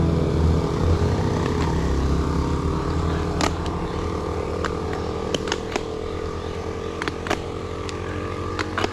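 A motorcycle engine strains on a steep uphill climb, a loud, close, steady labouring drone with a shifting pitch and a few sharp clicks and knocks, and no talking.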